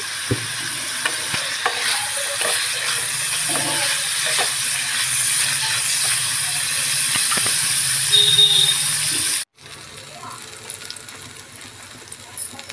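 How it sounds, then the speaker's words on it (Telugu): Dried red chillies and dry coconut fry in oil, giving a steady close sizzle and hiss with occasional stirring scrapes; the frying noise cuts out abruptly near the end and returns quieter. "మిరపకాయలు, ఎండు కొబ్బరి కొంచెం నూనెలో వేయించుకోవాలండి."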